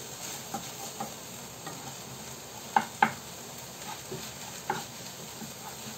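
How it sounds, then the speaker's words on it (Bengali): Garlic, onion and chili fry in a pan for jute leaves, a soft continuous sizzle with scattered taps of a spatula, two sharper clinks standing out midway. "রসুন পেঁয়াজ মরিচ দিয়ে জাস্ট একটু ভেজে নিলাম"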